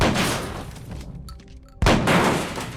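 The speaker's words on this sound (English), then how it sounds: "Most of the special effects are related to the shotgun fights." Loud, dense shotgun blasts and booming gunfire fill a film-set action scene, one burst rolling away before another heavy blast cuts in, with no talking.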